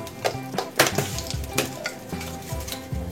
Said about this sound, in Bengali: তেলটা একটু গরম হবে, এতে আমি 1/4 চামচ মৌরি দিয়ে দিলাম